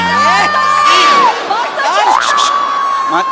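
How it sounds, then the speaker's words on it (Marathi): Energetic audience at a lively event erupting in cheers, whoops and excited shouting, many voices overlapping loudly before dipping and rising again. "टाळ्या, जोरदार टाळ्या."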